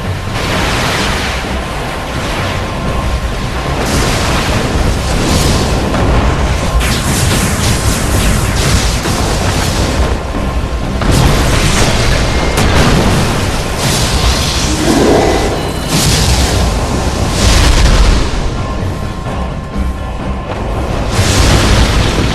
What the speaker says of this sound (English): All vessels open fire now!